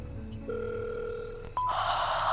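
A telephone rings for a call, steady electronic tones that shift pitch partway through and then give way to a brighter, louder ringing burst, heard alone with no voices.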